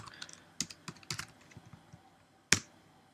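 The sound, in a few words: typing on a computer keyboard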